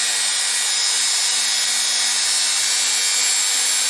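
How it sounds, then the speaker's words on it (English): A Dremel rotary tool whines steadily and continuously while polishing metal lock picks, close up with no talking. "If you want, you can do it also with a Dremel and something like that."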